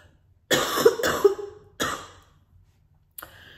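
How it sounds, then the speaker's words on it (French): Three harsh coughs in quick succession, close and loud, followed by a short quiet gap and a faint breath. "j'ai une belle toux irritante"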